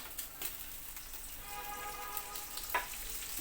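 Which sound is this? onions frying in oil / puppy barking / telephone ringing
onions frying in oil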